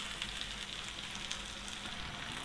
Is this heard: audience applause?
no